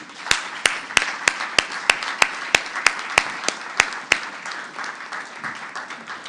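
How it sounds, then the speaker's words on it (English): An audience applauds at an International Women's Day 2024 gender-equality bell-ringing event. Sharp, steady claps stand out over a broad wash of crowd clapping, then the applause thins and fades after about four seconds. "The team needs a round of applause, Yamani."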